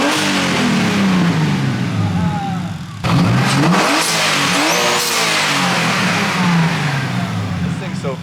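A built, turbocharged BMW E36 engine revving hard on a dyno, a loud sustained roar that climbs through the revs, drops briefly at a gear change and climbs again, up close and constant.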